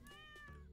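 A single short cat meow, faint and tonal, rising then falling over a quiet room background.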